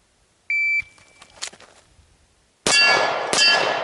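A shot timer's short electronic beep is followed by a quiet pause, then two sharp pistol shots ring out on steel targets at 10 yards, the second shot coming close after the first, with a metallic clang trailing each.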